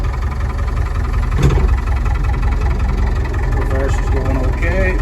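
A David Brown tractor engine idles steadily in reverse gear after a clutch change, a continuous low mechanical drone with a brief clunk near the middle, while a voice talks over it.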